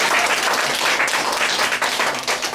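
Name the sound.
applause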